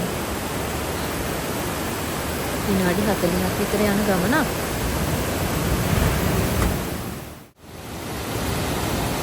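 Constant roaring rush of Ramboda waterfall in Nuwara Eliya, loud and even throughout, with a person talking over it for a few seconds and a short dropout near the end.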